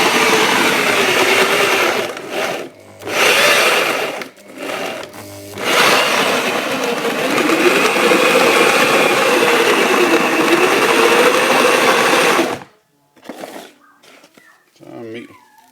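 A homemade electric grain mill grinds grain with a loud, continuous whirring drone, interrupted by brief stops and restarts before shutting off, then someone speaks quietly.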